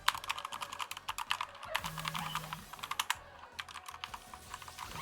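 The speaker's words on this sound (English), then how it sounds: "Like that little click clacks." A computer keyboard clacks under steady typing, a rapid stream of crisp, close key clicks with a faint tone briefly in the background.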